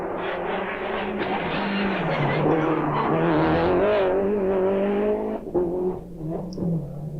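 A Group A Ford RS Cosworth rally car races flat out on tarmac, its engine howling and rising through the gears before a brief lift and burble, loud and alone with no talk.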